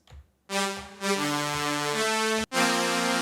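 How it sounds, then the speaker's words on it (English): A huge, buzzy supersaw synth preset plays bright sustained future bass chords, shifting once and cutting out briefly before a final chord rings. "It's a super saw, really huge."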